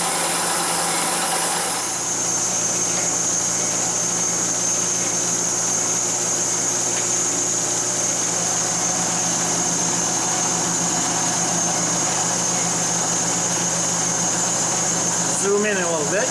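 A machine cuts metal in passes, taking a hundred thousandths of depth at a time, making a loud continuous whirring, grinding drone after a brief quieter start, steady throughout.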